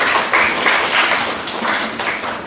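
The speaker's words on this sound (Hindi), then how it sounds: "एक बार ज़ोरदार तालियों से आप" Steady, loud applause from an audience welcoming guests at a mushaira, many hands clapping in a dense, continuous wash that swells and dips slightly without pause.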